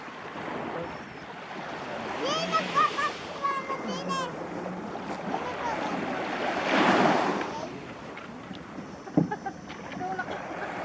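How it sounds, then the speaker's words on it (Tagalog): Ocean waves slosh and surge around a small boat off Tingloy Island, with wind buffeting the microphone and a swell building to a louder wash midway, while people shout and talk over it. "Yan ang alon!"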